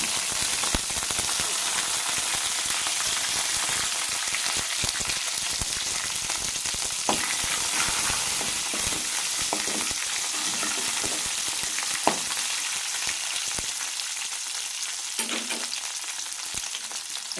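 Crushed garlic, a couple of dried red chilies and curry leaves sauté in hot oil after mustard seeds have popped, giving a dense, continuous close sizzle with occasional sharper crackles and scraping stirs.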